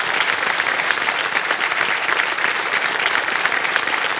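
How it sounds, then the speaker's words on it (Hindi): Studio audience at a Hindi TV quiz show breaks into loud, sustained applause, a dense steady wash of clapping that holds at full strength throughout with no speech over it. "एक बार जोरदार तालियां बज जाए इनके लिए।"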